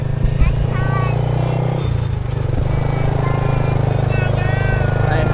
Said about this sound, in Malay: Ni motor taksi.